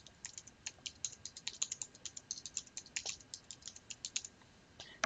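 Quick, light tapping as data values are keyed into a graphing calculator keypad, a steady run of soft close clicks with no talking.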